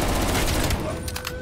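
Rapid automatic gunfire rattles in Call of Duty: Black Ops Cold War, a short dense burst of shots under faint in-game noise.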